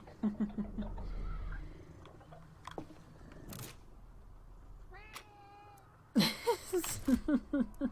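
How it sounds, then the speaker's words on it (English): A cat in a video game meows in short repeated calls, quiet at first, then louder and clearer near the end, with a few brief clicks between them. "Still hear the cat."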